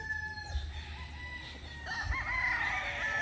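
A gamecock stag at a derby crows faintly in the background, a drawn-out call rising over a steady low hum and some distant bird calls.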